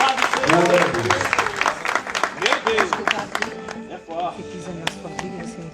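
A church congregation claps, with sharp hand claps over a sung or spoken voice. The applause thins into scattered taps as a voice carries on, with organ-like tones lingering underneath.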